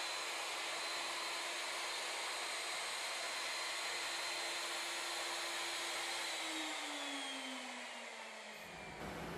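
A CNC mill cuts a flat surface on a wooden Native American flute with a loud, continuous high whine and hiss, its pitch sliding slightly near the end before cutting off abruptly.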